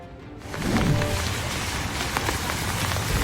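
Heavy, steady rain pours down without pause during Typhoon Basyang in Tagbilaran City, Bohol, a dense, loud downpour drumming on surfaces with a faint low rumble underneath.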